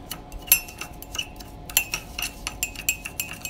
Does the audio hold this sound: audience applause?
no